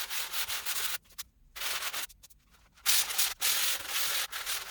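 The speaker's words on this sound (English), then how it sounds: "So now I'm starting the sanding, and it takes a little bit of time." Rhythmic back-and-forth hand sanding of painted wood, rough scratchy strokes separated by short pauses, close and fairly quiet.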